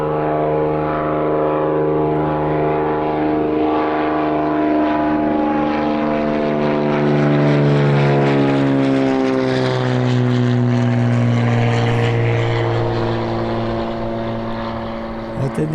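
A small propeller airplane at Birmingham Airport, its engine droning loud and steady as it passes near, the pitch sliding downward across the pass. Wind or a faint voice sits underneath.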